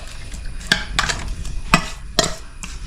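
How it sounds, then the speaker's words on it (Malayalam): Anabas fish marinade with salt, turmeric, chilli, pepper and coconut oil is being mixed, heard as a series of close, wet, squelching mixing strokes at an uneven rhythm over a low background hiss, with no speech. "ഇനി കുറച്ച് വെളിച്ചെണ്ണ ഒഴിച്ച് മിക്സ് ചെയ്യാം."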